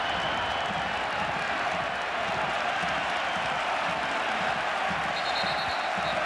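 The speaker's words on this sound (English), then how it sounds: "Ironic applause from the home fans for the referee." Ironic applause from home football fans at Rayo Vallecano directed at the referee during a match against Barcelona, a steady distant wash of stadium clapping and crowd noise that holds evenly throughout.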